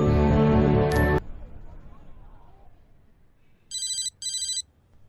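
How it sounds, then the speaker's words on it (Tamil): Telephone ringing indoors in a Tamil film scene: a loud tone cuts off abruptly, then after a quiet gap two short electronic ring bursts sound in quick succession. "ஏப்பா, அந்த போன் எடுப்பா."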